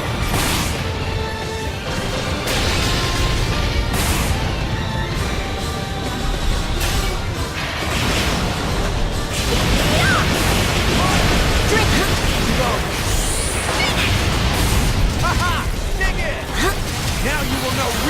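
Gunfire and explosions from combat in God Eater Resurrection, a dense, continuous din of bursts, pops and crashes at steady high loudness over about eighteen seconds, with game voices calling out through the battle.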